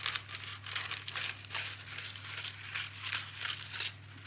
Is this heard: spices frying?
no